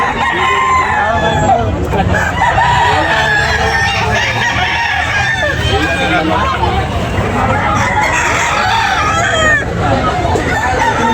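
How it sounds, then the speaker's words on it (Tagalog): Several Gilmore Hatch gamefowl roosters crow loudly and repeatedly at a rooster sale in Tabunok, over a busy background of voices and clucking birds, the calls overlapping throughout. "Guwapo kayong mga manok."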